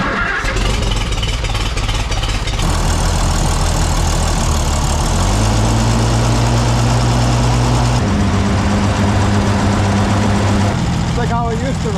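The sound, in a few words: old tractor engine running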